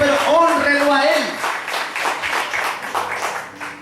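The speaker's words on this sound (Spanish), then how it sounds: "Denle un aplauso, por favor" A church congregation breaks into applause, a dense patter of many hands rising just after a voice stops and continuing steadily to the end.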